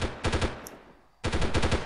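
Two loud bursts of rapid automatic gunfire in the video game Delta Force, separated by a short quiet gap, with no talk over them.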